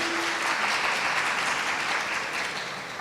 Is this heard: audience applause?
yes